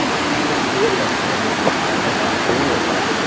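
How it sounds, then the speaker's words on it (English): Steady, dense roar of the 93-metre Plitvice Lakes waterfall in Croatia, a continuous broadband rush of falling water that stays even and unbroken throughout. "This is that 93 meter, 270, 280 foot waterfall"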